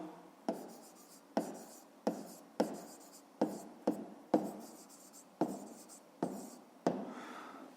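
A pen writes numbers for a fifth-grade math exercise on paper, close and quiet, in a run of short scratchy strokes each starting with a crisp tap, roughly one every half second to second, with no talk.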